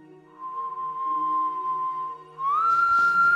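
A person whistles a long sustained note, then slides up to a higher pitch held over faint background clicks.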